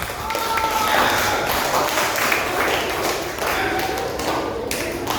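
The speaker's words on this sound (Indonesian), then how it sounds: "Oke, tepuk tangan untuk kita semua." A crowd claps together in steady applause, a dense patter of many hands sustained for several seconds.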